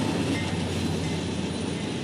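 A Norfolk Southern freight train rolls past at a meet with another train, giving a loud, steady broadband rumble with faint wheel clatter throughout and no voices.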